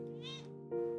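A cat meows twice in quick succession in the game Mini Motorways, the second call louder and more nasal, with tonal game sounds lingering underneath.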